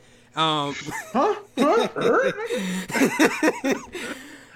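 A dog close by gives a high yelping bark, then a run of whining, whimpering yips and short barks in uneven bursts, loud and near, with some laughter-like sounds mixed in.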